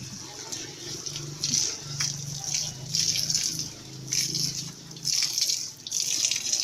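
Water splashes steadily as a face is rinsed after a facial wash, a close, continuous running-water wash with repeated bursts of splashing and a faint low voice in the background.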